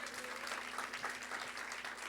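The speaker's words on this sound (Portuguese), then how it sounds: "Quem pode aplaudir ao Senhor por isso?" A church congregation applauds during a family worship service, steady continuous clapping filling the room at moderate level with no voices above it.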